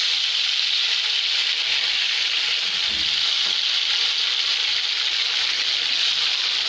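Tomatoes for tomato pickle fry in hot oil after mustard seeds have popped, giving a loud, steady, close sizzle that hisses on without pause and with no talking.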